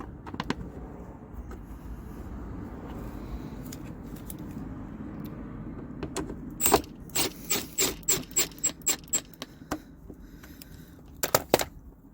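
Screws being driven into the plastic air filter housing of an Alfa Romeo Giulietta, a rapid run of about nine evenly spaced ratcheting clicks mid-clip, with scattered rubbing and handling noises before and a few sharp knocks at the end.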